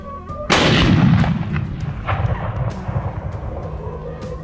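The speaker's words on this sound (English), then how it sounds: "Gunshots echoed non-stop, but landing accurate shots was tough." Rifle gunfire during a wild boar hunt on open Texas farmland: a sharp loud shot that rings out and rolls away in a long echoing tail, with further muffled reports fading in the distance.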